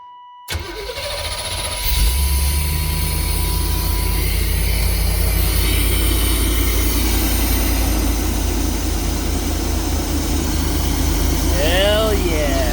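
A GMC Vandura engine starts and then runs loud and steady with its air filter off, a rough continuous rumble with voices talking over the idle.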